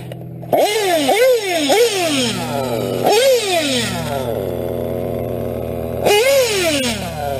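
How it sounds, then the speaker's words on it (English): A nitro engine running rich is blipped several times, each rev rising and sagging back, then settles into a low, uneven idle with another throttle blip near the end, loud and close. "that idle's way too low. I'm surprised it even idles that low."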